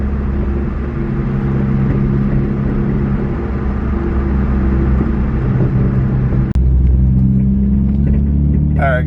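A modified Nissan Juke NISMO crossover pulls in second gear from a 30 mph roll on a chilly night, its engine making a steady, loud rumble that holds throughout, with a brief sharp click near the end.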